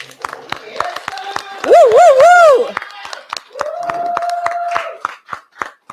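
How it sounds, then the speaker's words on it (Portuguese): Audience clapping for a contestant at a drag pageant, sharp irregular handclaps scattered throughout, mixed with loud whooping and sung or wavering vocal cries from the crowd. "Um aplauso mais para Rachel"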